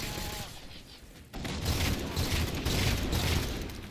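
Bursts of turret gunfire from an Elite manning a turret in Halo chatter steadily and fairly loud amid the clutter of battle sounds.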